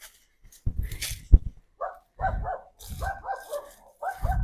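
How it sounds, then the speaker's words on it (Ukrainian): Dogs bark in a series of short, sharp yaps, several spaced bursts sounding from a little distance with no talking. "собаки там сусіді гавкають"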